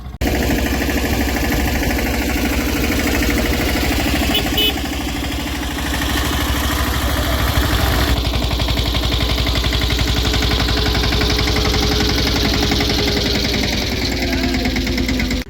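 A tractor engine chugs steadily and loudly throughout while sowing a field, a constant droning rumble with no pauses.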